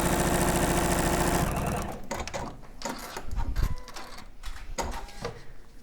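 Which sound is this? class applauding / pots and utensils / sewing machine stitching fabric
sewing machine stitching fabric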